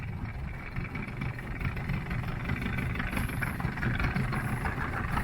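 A steady, low inflatable boat engine rumble idles continuously with a broadband wash of water and wind noise on Tasik Kenyir lake, no voices.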